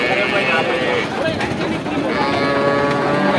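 Native cattle at the Kundadam cattle market in Tamil Nadu let out a long, loud moo over a busy crowd murmur and nearby conversation.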